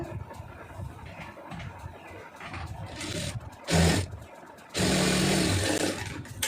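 Domestic sewing machine stitching a seam to join pieces of a chudidar pant, bursts of rapid mechanical whirring in short runs separated by pauses, close and fairly loud.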